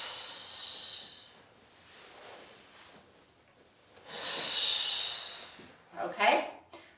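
Slow, audible breaths in and out during a pregnancy movement exercise, an airy inhale followed by a longer hissing exhale and a short sharp snort-like breath near the end, close to the listener.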